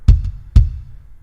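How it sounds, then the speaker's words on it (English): Two punchy kick drum hits in a recorded song mix, deep thuds about half a second apart, close and prominent with a faint click on each attack. "As for the drums, I like a really punchy kick"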